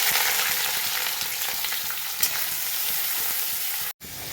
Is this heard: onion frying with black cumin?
yes